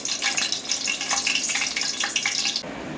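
Five dried red chillies dropped into hot oil for butter chicken masala, a steady bright sizzle and crackle close by that stops abruptly near the end.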